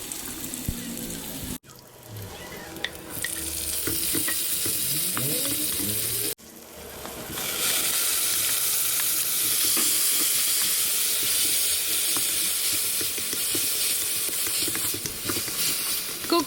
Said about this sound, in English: Fry till fragrant before adding in the tomato and also the sweet leaves.